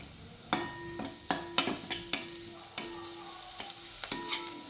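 Quarter teaspoon of turmeric stirred into hot oil with asafoetida in a pan for kardai leaf sabji, a soft steady sizzle broken by sharp spoon taps against the pan at irregular intervals, close and without speech.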